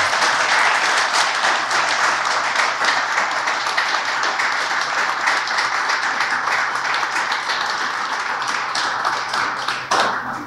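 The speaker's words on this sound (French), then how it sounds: "On applaudit Jerry." Steady applause at an urban sports press event in honour of Jerry Séguin, the dense clapping of a crowd holding loud and constant, easing slightly near the end.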